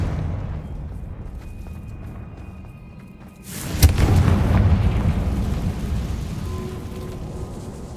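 Sudden loud blast from a Confringo fire spell in Hogwarts Legacy, a sharp crack swelling into a sustained rumbling roar after a quiet ambient stretch, with no talking.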